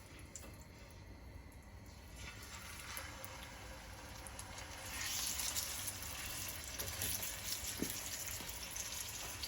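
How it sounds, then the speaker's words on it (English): A bone-in steak sizzles in a hot oiled pan, a faint steady crackle that grows louder about halfway through, with no talking. "You can hear the sizzling. That means the pan is ready."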